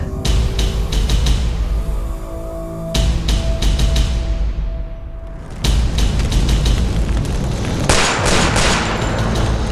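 Gunfire in a Turkish TV crime drama, İçerde: loud, heavy bangs and booming shots recur across the scene, with a dense crash of blasts near the start and again toward the end, set against a thick, busy soundtrack.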